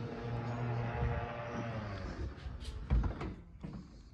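The power boot of a 2012 Land Rover Range Rover Evoque 2.2 SD4 Prestige closes with a steady motor whir, then a firm latching thud and a couple of fainter clicks at close range.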